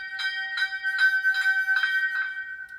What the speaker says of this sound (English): Function 1 being the bell.